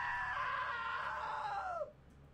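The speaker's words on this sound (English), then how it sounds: "Now that was a great scream." A woman screams in the video game What Remains of Edith Finch, a sustained high cry that bends downward and cuts off, fairly faint and with no talk over it.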